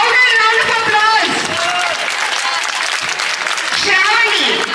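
An audience applauds at a Sri Sita Rama Shanti Kalyana Mahotsavam temple wedding festival in Yapral, with steady clapping running throughout under a voice and tonal sounds.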